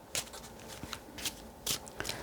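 A deck of wellness cards being shuffled near and fairly quiet, several quick papery riffles in an uneven rhythm, with no talking over them.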